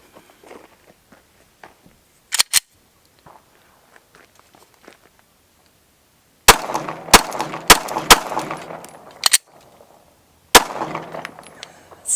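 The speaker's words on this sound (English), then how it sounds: "I am going to shoot it a little bit though. I'm already here. Gonna dump some rounds," A Gen5 Glock pistol fires a series of sharp, close shots, a couple of early cracks and then a rapid string of rounds, with a pause before a final shot.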